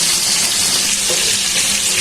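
Bata fish frying in hot oil, a steady dense sizzle with crackling spatter filling the whole stretch, close and loud with no talk.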